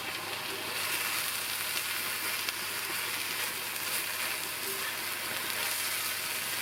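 Chopped eggplant sautés in a pan for a quick brinjal poriyal, giving a steady, even sizzle with soft stirring underneath and no talking.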